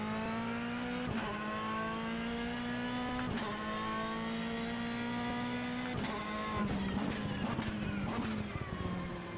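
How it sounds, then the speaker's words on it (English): A Ferrari GTE race car engine in the sim racing game rFactor 2 drones steadily at high revs, its pitch dipping and climbing with each gear shift and sharp transient clicks throughout. "This might be one of the best sounding Ferraris in sim racing."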